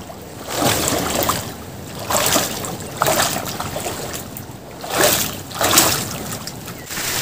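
Feet splash and slosh through a shallow forest stream on the way to a waterfall near Vajedu, coming in repeated loud bursts over a constant background of running water.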